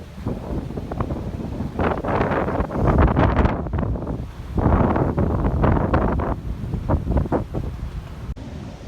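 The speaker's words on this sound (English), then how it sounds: "It's getting pretty windy out too." Strong wind gusts buffet the microphone at a cruise ship harbor as a thunderstorm moves in, a loud continuous rumbling roar that swells and eases in waves with no talking.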